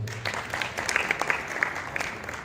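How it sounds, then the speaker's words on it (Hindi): Audience applause at an award ceremony, a steady burst of many hands clapping that fills the short moment, with no talk over it. "इस बात की तालियां बजाइए।"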